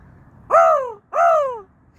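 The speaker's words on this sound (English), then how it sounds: "I love my crows. And there's lots of them." A crow caws twice, close and clear. The two harsh calls are spaced about half a second apart against a quiet background.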